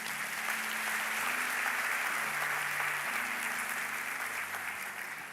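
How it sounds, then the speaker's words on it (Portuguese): Sustained applause from a church congregation fills the whole stretch, steady and dense, with a low sustained tone, likely organ or keyboard, holding underneath. "Glória a Deus, aplauda ao Rei."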